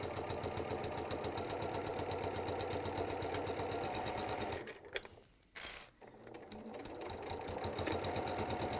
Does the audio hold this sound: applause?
no